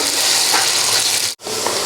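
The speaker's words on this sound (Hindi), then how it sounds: "प्याज़ों को हम यहाँ पर गोल्डन फ्राई कर लेंगे।" Finely sliced onions frying golden in hot oil for a meat pulao, a steady loud sizzle and hiss with a brief drop-out before the frying resumes.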